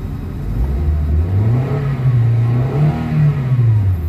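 A Toyota Avanza with low power and a delayed throttle revs up to about 4,000 RPM, the engine note swelling and holding loud and close before easing back, with no talk.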